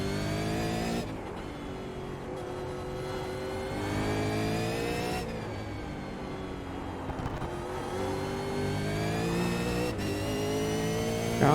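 Race car engine in the iRacing simulator revving hard under acceleration, its harmonic whine climbing in pitch through several gear shifts, loud and continuous with no speech.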